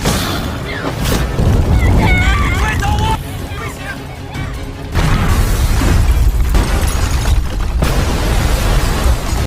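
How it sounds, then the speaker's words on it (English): A loud, deep explosion from spreading flames in a monster movie, a heavy low rumble and blast that swells and holds for several seconds amid chaotic noise and babble. "the flames began to spread and caused a huge explosion"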